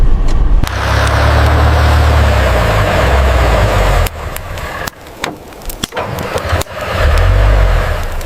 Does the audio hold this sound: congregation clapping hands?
no